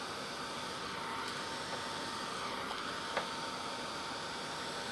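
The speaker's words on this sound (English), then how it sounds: "I just take my heat tool, just lightly go over it just to make sure that the ink is set" A heat tool passes lightly over freshly stamped ink on cardstock, blowing a steady, even airy whoosh with a low fan hum that runs unbroken and alone.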